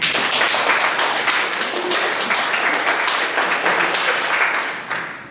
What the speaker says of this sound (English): So feel free to clap after each stat that I'm going to give.